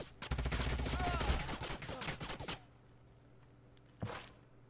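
Gunfire from the strategy game Age of Wonders: Planetfall: a dense burst of rapid shots and impacts for about two seconds, then quiet, then one more loud blast near the end.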